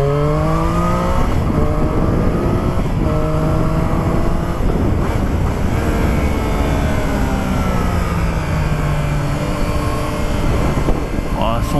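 A Triumph Street Triple S 660 motorcycle in A2-restricted form revs hard, its engine note sweeping up and dropping back repeatedly, loud and close over a steady wind roar.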